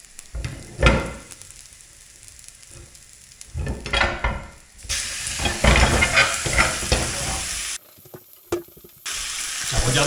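An entrecôte steak and garlic frying in a hot pan, a steady close sizzle broken by stirring and handling noises, with a tap running briefly toward the end and no one speaking.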